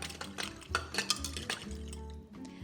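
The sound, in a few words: fork mixing breadcrumb stuffing with salt in a bowl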